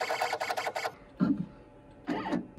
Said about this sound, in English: With some help from my friend Adam, I got to engrave the atomic symbol for tin using the Invendibles X-Carve CNC machine.